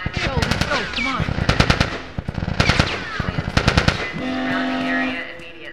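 Rapid bursts of automatic gunfire from The Last of Us, loud and close, arriving in several tight volleys separated by short pauses, with shouting and game sound effects mixed in.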